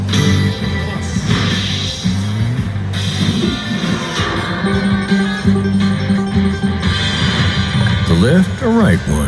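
On a Harley Davidson Deluxe Green Machine slot machine, a Wheel of Fortune bonus wheel spins with rapid ratcheting clicks and mechanical whirring, layered over loud, bright casino chimes and music that keep sounding throughout.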